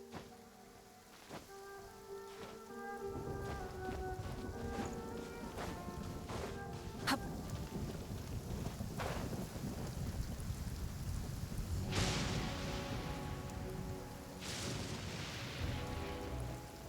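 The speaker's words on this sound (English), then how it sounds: "It's raining again?" Steady rain falls in the video game Genshin Impact, a soft hiss of patter that swells after a few seconds. Melodic music plays over it, along with occasional brighter splashes.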